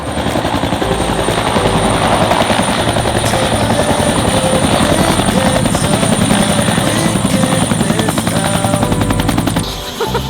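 A helicopter drones loudly and continuously with rapid rotor chopping, close and steady, before the sound drops off abruptly at the end.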